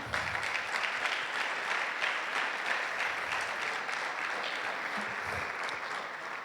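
A church congregation applauds during a Sunday service, steady dense clapping filling the room at an even level throughout, with no voices rising above it.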